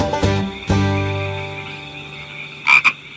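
A frog croaks several times, with a pair of short croaks early, a longer sustained call, and two quick sharp croaks near the end, fairly close and clear with no talking.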